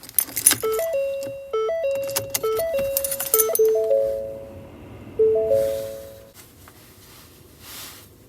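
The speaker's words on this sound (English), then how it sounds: "First thing we do is simply turn the key on without starting the engine." A car's ignition key is turned to the on position without starting the engine, giving keys jangling followed by a series of tonal dashboard chimes and beeps, fairly close, with the motor staying silent.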